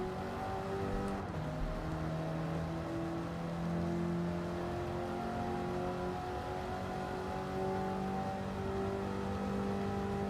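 A Jaguar E-Type race car engine in the Gran Turismo video game hums steadily at a moderate distance, its pitch drifting up and down as the revs change, with no speech over it.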